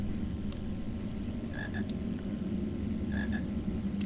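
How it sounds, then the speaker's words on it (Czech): A frog croaks in a Harry Potter video game, giving two short pairs of chirping croaks over a steady, low ambient hum. "Slyším žábu."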